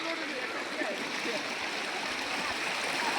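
Floodwater rushes steadily through a village, a continuous loud roar of flowing water with splashing, and someone talks over it.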